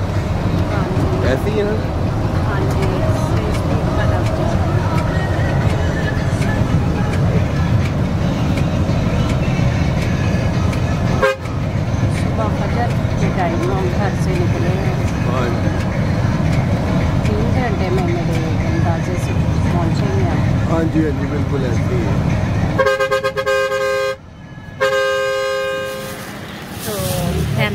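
A car moving at steady speed on the road to a graveyard, with continuous road and engine rumble, then a few short loud horn toots near the end; people talk over it.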